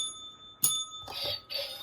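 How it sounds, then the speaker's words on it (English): A small hand bell rings indoors, one bright struck tone followed by a couple of quicker jingling rings, fairly faint and close. "I rang my bell"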